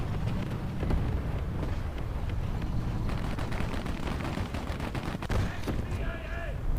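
Tank cannon and gunfire in the mobile game War Thunder Mobile, with a KV-2 heavy tank in play, heard as sharp repeated blasts over a constant rumbling battle bed with faint voice-like sound.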